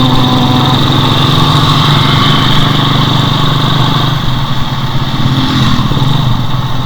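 A motorcycle engine drones loud and steady close by on a road near the mountains, with a slight dip and recovery toward the end as it goes past, and no speech.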